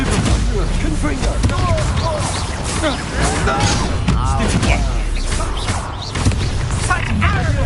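Confringo blasting curse fired in the Hogwarts Legacy video game, heard as a dense, continuous barrage of booms, crashes and impacts that carries on through the combat, with voices shouting over the din.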